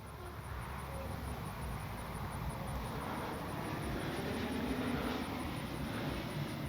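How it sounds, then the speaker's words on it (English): A distant RC model airplane engine drones faintly and steadily overhead, slowly growing a little louder against a quiet outdoor background. "I can hear that plane even all the way out here"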